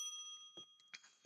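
Bell ringing in the Strange Antiquities video game: a sustained, clear metallic tone holding steadily and faint, with a few brief soft knocks and rustles over it.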